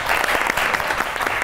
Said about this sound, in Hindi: ताली दोनों के लिए।